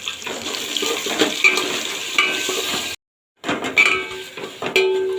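Mung dal and grated ginger fry over a spice tempering in a pan, giving a steady broadband sizzle with scattered stirring scrapes and clinks, broken by a brief silent gap before the sizzling resumes.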